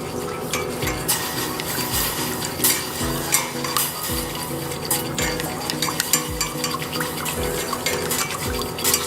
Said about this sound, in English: 15 grams of soy sauce, 15 grams of mirin, 45 grams of water.